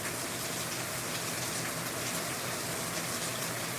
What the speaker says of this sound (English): we needed rain bad, and it just started